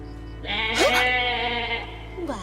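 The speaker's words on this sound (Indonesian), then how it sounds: "Itu suara kambing tuh." A goat lets out one long wavering bleat that rises and then trails off, with a shorter second cry at the end, heard fairly close over a steady low electrical hum.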